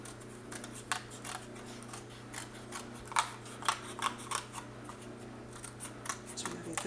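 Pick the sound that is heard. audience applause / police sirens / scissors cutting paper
scissors cutting paper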